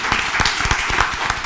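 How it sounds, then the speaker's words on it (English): A studio audience claps through a televised reunion panel, a dense steady patter of many hands at even loudness, with no break over the short stretch. "let's clap it up for that"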